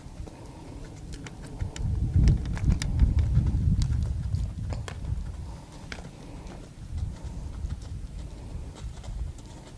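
A ridden horse walks through a cone pattern in an arena, hooves clip-clopping in a steady, moderately close rhythm with no talk over them.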